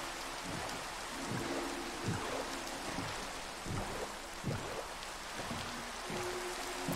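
Rain patters steadily in Minecraft, a dense even hiss broken by soft, scattered drop-like taps throughout, with no voices.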